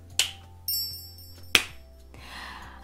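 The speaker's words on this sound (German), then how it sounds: "Und ich schnipp den Marcel mal wieder weg." Finger snaps, two crisp sharp cracks about a second and a half apart, close and clear, with a bright chime ringing out after the first and a soft rushing swell at the end, no talking.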